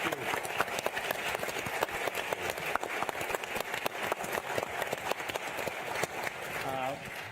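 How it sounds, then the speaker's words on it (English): An audience claps steadily after a transportation panel session at a Yale conference, dense, sustained applause filling the room at moderate loudness, with some voices mixed in. "Can we get a round of applause?"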